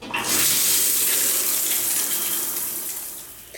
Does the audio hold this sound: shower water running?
yes